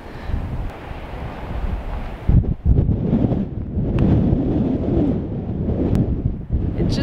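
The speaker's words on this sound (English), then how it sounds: "like 40 mile an hour gusts of wind" Strong gusts of wind, around 40 mph, roar steadily across an open outdoor homestead site, buffeting the microphone loudly throughout with a brief surge partway through.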